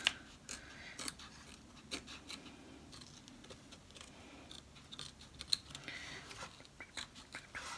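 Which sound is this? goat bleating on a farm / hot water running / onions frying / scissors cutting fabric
scissors cutting fabric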